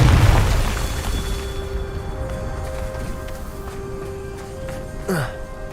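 Confringo fire spell detonating in Hogwarts Legacy, a deep booming blast that rolls on under a sustained roar, with a tonal hum and a short rising whoosh near the end.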